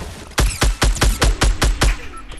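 A minigun in Fortnite fires a rapid burst of about eight heavy, evenly spaced shots, loud and close with booming low thumps.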